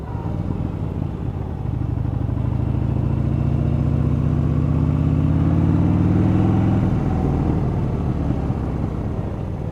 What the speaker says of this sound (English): I'm just going to pull over here and do a little walk around on the bike